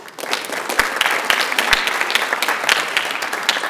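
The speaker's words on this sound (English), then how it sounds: "So please give your parents a round of applause." Crowd applause at a Lodi High School senior honors night honoring parents, steady dense clapping from many hands with a few sharp individual claps standing out, sustained throughout.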